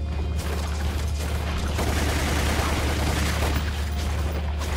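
Sustained machine gun fire in Resident Evil Umbrella Chronicles, a loud, continuous rattling barrage with heavy low-end thump, close and unbroken for several seconds.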